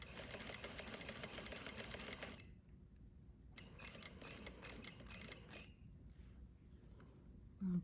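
Sewing machine stitching a princess line seam, a fast steady mechanical whir heard up close in bursts with brief pauses between runs, ending with a short clunk.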